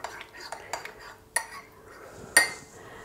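A spoon stirs a hot winter tea mixture for sore throats in a cup, giving a few scattered, bright metallic clinks with quiet gaps between them.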